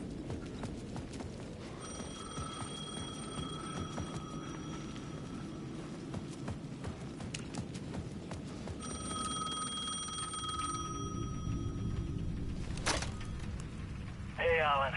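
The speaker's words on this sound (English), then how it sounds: "The payphone at the edge of the plaza was ringing again." A payphone rings at the edge of a plaza in the video game Alan Wake 2, with two clear ring bursts several seconds apart over a low, steady ambient rumble and faint scattered clicks.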